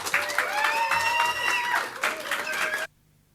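Audience applause at a Manchester election-night event in Gorton and Denton, a dense, steady clapping wash with some voices mixed in, lasting close to three seconds before cutting off abruptly.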